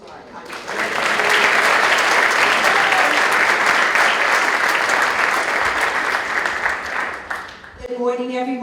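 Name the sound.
audience applause for Holocaust survivor at school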